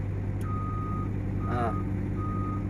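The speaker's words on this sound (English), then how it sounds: "Okay, that's the travel alarm." A Cat excavator's travel alarm sounds three evenly spaced, high-pitched beeps over a steady engine hum, with a short bit of talk in the middle.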